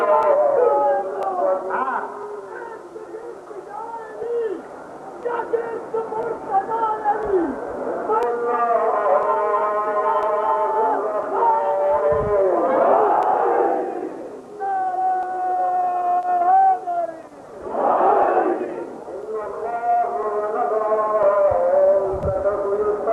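At a religious majlis, a crowd chants slogans in long, sustained, droning voices, each line drawn out in unison, with brief louder surges of massed shouting between phrases.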